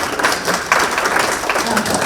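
Audience applause at a forum event as a speaker is introduced and takes the stage, a dense, lively patter of many hands clapping throughout, fairly loud, with no speech over it.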